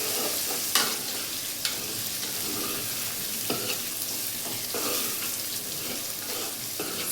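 Vegetables seasoned with a pinch of turmeric are stirred in a frying pan, a steady sizzle broken by a few sharp scrapes of the spoon against the pan, close and continuous, with no talking.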